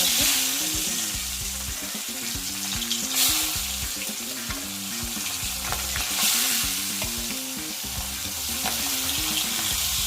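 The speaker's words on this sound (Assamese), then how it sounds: "এতিয়া মই মাছখিনি ভালকৈ ভাজি দিম।" Fish sizzles steadily in hot oil in a pan while being stirred, a constant bright crackle that stays even throughout, with melodic background music underneath.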